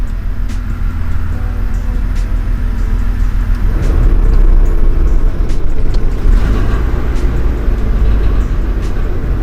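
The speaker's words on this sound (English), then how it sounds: "Now let's turn on the AC." A mini truck idles with its air conditioning switched on, a loud steady engine rumble filling the cab as the compressor load deepens the drone partway through, with no talking.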